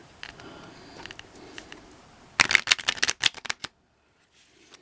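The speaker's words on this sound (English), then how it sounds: "Not a great shuffle. Came up a little short, so I'll cut the cards." A deck of playing cards is shuffled up close, with rapid crisp riffling clicks in a dense burst that stops abruptly into silence after a softer lead-in.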